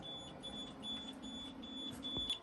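A thin, high-pitched beep from a WiFi smart water leak sensor detecting water sounds repeatedly in short bursts over a quiet room, with a soft knock near the end.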